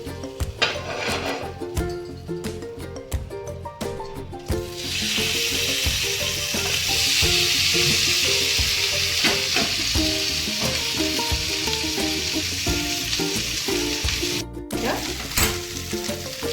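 Chicken tandoori sizzles on a hot tawa, opening with scraping and clattering before a loud, continuous frying hiss takes over and persists close up to the end.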